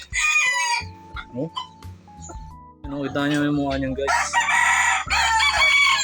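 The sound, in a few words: gamefowl rooster crowing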